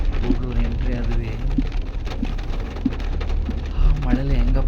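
Steady rain pours down around travellers arriving at Gudalur, a continuous wash of noise with voices talking over it.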